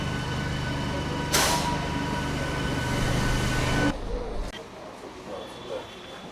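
A MEMU train at Kannur station: a loud, steady carriage rumble and hum with a door-like clunk, then the noise drops abruptly to quieter platform ambience with scattered distant sounds.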